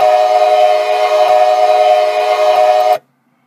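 Custom train horn built for Train Simulator 2016, a loud sustained chord-like blast held steadily for about three seconds before cutting off abruptly into silence.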